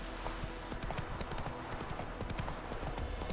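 Horse hooves clip-clop steadily at a riding pace across open land in The Witcher 3 video game, a continuous rhythmic run of close, moderately loud footfalls.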